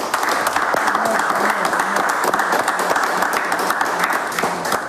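A church congregation claps together in a loud, dense, sustained burst of rapid hand claps that continues throughout without pause.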